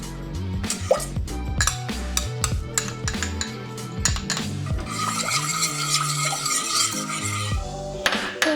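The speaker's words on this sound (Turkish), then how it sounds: "Balımızın erimesi için biraz karıştırıyorum." A metal utensil scrapes and clinks around inside a pot of water and honey in quick irregular strokes, followed by a sustained swishing stir, close and fairly loud.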